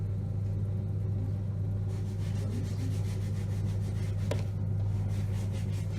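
A pottery wheel spins with clay on it, giving a steady low motor hum and a continuous rubbing drone, with one brief scraping tick partway through and no talking.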